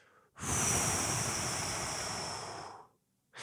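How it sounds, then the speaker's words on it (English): A long, steady whooshing exhale through pursed lips during 4-7-8 breathing, lasting a few seconds, close and breathy, with a short new breath starting at the end. "making a whoosh noise with pursed lips."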